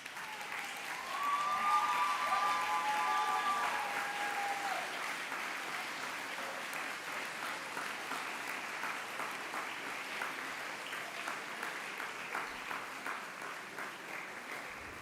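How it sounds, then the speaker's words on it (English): A graduation commencement crowd at SLU-Madrid gives a sustained round of applause that swells early, then settles into a softer, steady clatter of many hands with no speech over it. "turn to family members and loved ones, and thank them with a round of applause."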